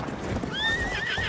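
A horse in Battlefield 1 neighs with a rising, wavering whinny over steady hoofbeats and background clatter, fairly close and continuous.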